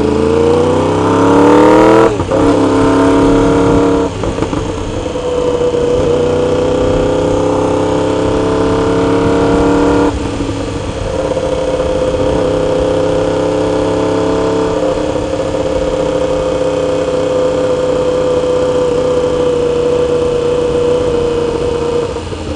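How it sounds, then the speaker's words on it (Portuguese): A Porsche Cayenne GTS at a motorsports show: a loud, close engine idles steadily with rising revs near the start and again midway, then settles back to a low, even burble, with no talking. "Essa Porsche aí, Cayenne GTS, a máquina, né, velho?"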